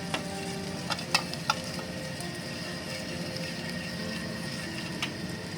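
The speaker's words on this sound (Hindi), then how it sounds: "ऑयल हमने फ्राई पैन में जो डाला हुआ था हल्का सा, उसमें हम जीरा डाल लेते हैं और हल्का सा इसको भून लेते हैं।" Cumin seeds roasting in a little oil in a frying pan make a soft, continuous sizzle, with a few sharp crackles and pops scattered across the sound; no talking.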